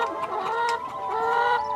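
Rescued ex-commercial-farm hens at a rehoming site cluck softly and continuously nearby, a short burst of overlapping mid-pitched calls.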